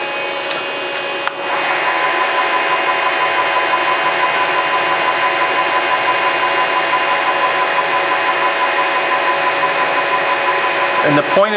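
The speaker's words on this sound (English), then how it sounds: "The bit wants to catch, and carbide cutters are expensive, so I'm being gentle" A drill fitted with a carbide cutter bores through an FAL rifle gas block, starting with a clunk and then settling into a steady, high metallic whine that runs on for about ten seconds.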